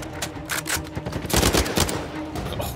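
Rapid automatic gunfire from the Uncharted 4 video game, aimed at a sniper: dense bursts of loud shots overlapping in quick succession for a few seconds, with no voices.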